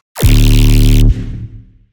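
A tearout dubstep sub bass layer: one loud, deep synth hit that holds steady for about a second, then decays over a further second with a low rumbling tail.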